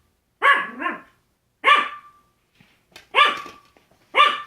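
A dog barks four times nearby, loud distinct woofs spaced about a second apart in an otherwise quiet room.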